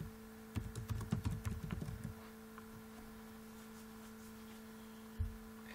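Rapid clicking of keys typed on a computer keyboard for about two seconds, then a steady electronic hum with one more key tap later.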